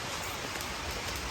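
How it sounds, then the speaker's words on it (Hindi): Steady rain pours down outdoors, a dense, even hiss with no breaks that fills the whole moment, close and moderately loud. "बारिश भी आ गई भाई एकदम।"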